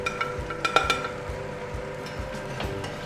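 Pan-fried tofu being moved from the pan onto a plate: a series of metallic clinks and taps from a utensil against pan and plate over a faint sizzle, close and irregular.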